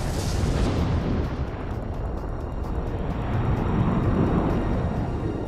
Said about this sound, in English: The first atomic bomb detonates on July 16,